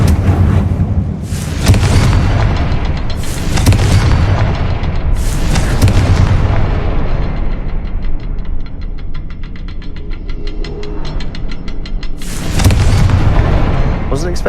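Confringo spell explosions in Hogwarts Legacy, several deep booming blasts at intervals with a rumbling tail after each, loud and close.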